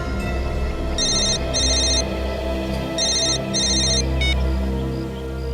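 A telephone rings in two double bursts of bright electronic trills over a low background hum, followed by a short click as it is picked up, with no talk.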